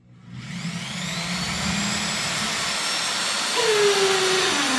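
A drill bores through the wall of a house to run a Starlink cable, giving a steady, close motor whine and grinding that holds throughout and shifts in pitch near the end as the bit breaks through.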